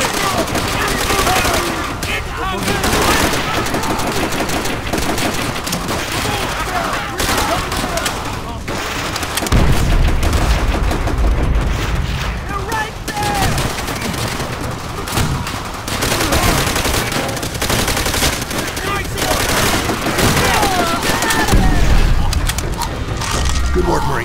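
Sustained machine gun and rifle fire in a Call of Duty: World at War battle, dense overlapping bursts and single cracks throughout, with heavy low booms and shouted voices mixed in.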